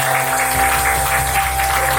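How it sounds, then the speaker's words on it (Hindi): Congregation at a Hindi Christian ministry gathering gives loud, continuous applause in praise of Jesus, a broad steady roar of clapping with a faint sustained hum underneath. "आइए जोरदार तालियां प्रभु यीशु।"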